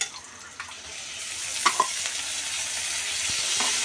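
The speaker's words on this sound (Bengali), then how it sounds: "ভালো করে 2 মিনিট ভেজে নেব" Onion, chili and garlic frying in oil for a bitter gourd dish, a steady soft sizzle throughout with a few light stirring scrapes near the middle and end, no talk.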